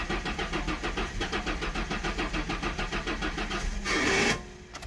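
A car engine that has sat unused for a day, being checked for a bad or blown head gasket, cranks with a steady rapid chugging rhythm for several seconds, then catches briefly with a louder surge before cutting back, close and alone.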